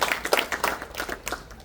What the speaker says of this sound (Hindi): ताली बजाओ इस